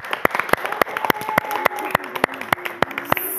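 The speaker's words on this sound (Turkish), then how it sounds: "Güçlü bir alkış." Rhythmic clapping in a steady beat, sharp evenly spaced claps from a group at a television show, with a faint voice or tone underneath.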